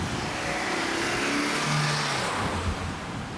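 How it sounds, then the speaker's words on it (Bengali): A 2010 Honda Civic with a 1.8 litre engine driving along a busy street, a steady broadband road and engine roar filling the whole stretch, fairly loud and even, with no talking. "আমার এটা হচ্ছে আমার কার, হোন্ডা সিভিক 2010 মডেল"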